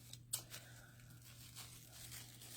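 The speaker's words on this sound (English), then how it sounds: "let's recut that top part there" Scissors cut paper in a few faint, crisp snips and rustles over a quiet background with a steady low hum, with one sharper snip near the start.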